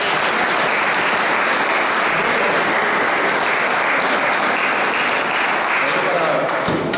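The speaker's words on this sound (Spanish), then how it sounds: "Un aplauso aquí para sus compañeros de la pantalla." An audience gives a long, steady round of applause, the dense clapping holding at an even level before easing slightly near the end.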